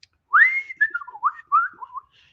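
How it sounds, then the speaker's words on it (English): A person whistles a short melodic phrase alone, one long rising note followed by several quick gliding notes, close and clear with no talking. "Yes, I can whistle."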